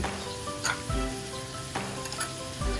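Pork belly stir-fried with ginger, light soy sauce, seasoning sauce, sugar and shiitake mushroom sauce, giving a steady close sizzle broken by a few scrapes of a utensil stirring against the pan.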